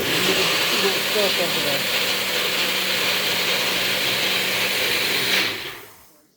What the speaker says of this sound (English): I just got that blended down.